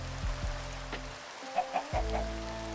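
A few short clucks from a chicken in the Minecraft video game come over a steady low background hum. The clucks are fairly close and moderately loud, with no speech.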